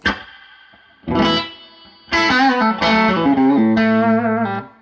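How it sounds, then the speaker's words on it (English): Electric guitar through an MXR Echoplex Delay pedal setup with a touch of reverb, a few sparse single notes ringing out, then fuller strummed chords sustaining. "We'll leave a little bit of that reverb in there for my sanity."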